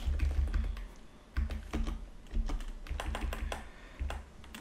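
Rapid clicking of keys on a computer keyboard, irregular bursts of typing with short pauses, close and fairly quiet.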